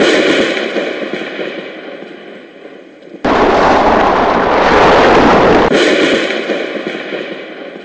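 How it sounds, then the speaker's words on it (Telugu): Loud thunder in a rain-soaked radio drama scene: a steady hiss of rain gives way to a sudden, roaring thunderclap that holds for a couple of seconds and then cuts back to the rain. "పెద్దగా ఉరుములు, మెరుపులు."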